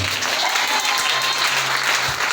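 Congregation at a prophetic church service applauding and cheering, a dense, sustained wash of clapping and crowd noise that stays loud and steady throughout.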